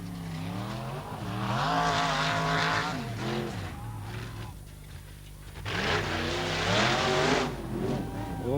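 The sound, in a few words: rally race car driving the course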